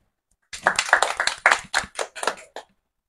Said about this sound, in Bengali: তো তন্ময় জিতেছেন এই 1 টাকা ক্যাম্পেইনের প্রথম পুরস্কার, তার জন্য একটা হাততালি